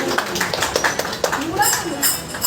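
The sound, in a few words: audience applause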